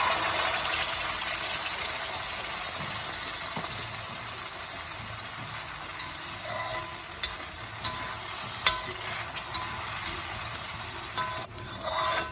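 Ground spice paste poured into hot oil with popped mustard seeds for a Jaffna-style egg curry, a steady loud sizzle and frying hiss with stirring scrapes throughout, no voices.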